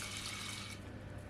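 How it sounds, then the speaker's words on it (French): Buckwheat being rinsed under a running tap, a steady close hiss of flowing water into a sink that thins out slightly partway through. "je rince bien mon sarrasin avant de passer à la cuisson"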